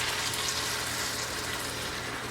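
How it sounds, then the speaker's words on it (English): Beef stock poured into a hot cast iron pan of chili, a steady, dense hiss and sizzle that stays loud and even throughout. "I've got 2 cups of beef stock. I'm gonna throw that in there."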